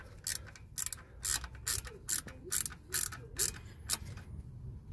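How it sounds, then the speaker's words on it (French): A ratchet wrench with a 10 mm socket tightens bolts on a Peugeot 106 1.1 engine while the coolant thermostat housing is refitted. Repeated close clicking bursts follow a steady back-and-forth rhythm, alone and fairly quiet. "vissage avec la clé à cliquer, toujours en douille de 10"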